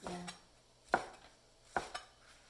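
A knife cutting tofu puffs on a board, three separate crisp chops spaced about a second apart, close and quiet with near silence between strokes.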